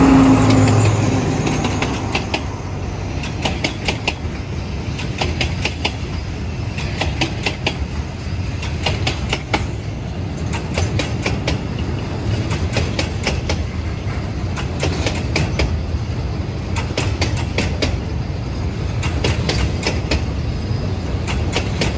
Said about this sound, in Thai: เสียงรถกระทบรางเลยเพราะจริงๆนะครับ